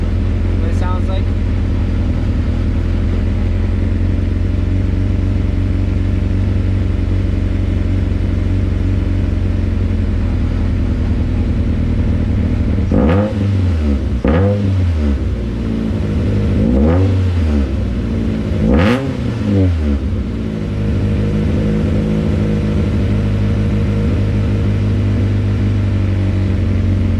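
A Honda CRX with a B17 engine idles with a deep rumble, then gets several short, sharp revs through a custom 3-inch full exhaust, each blip rising and falling quickly.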